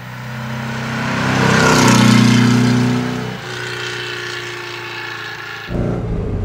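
A tuned 1963 Porsche 356 B T6 Cabriolet with a rear-mounted engine uplifted to about 160 hp and a four-speed gearbox revs hard and pulls away, its loud growling note rising then settling into a steady drone before a sharp shift in tone near the end.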